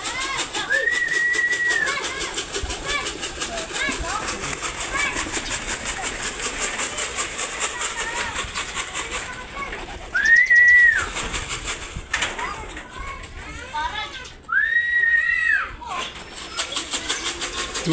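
Pigeons at a pigeon market flap their wings and coo amid a busy, noisy background, with a few brief louder bursts of fluttering.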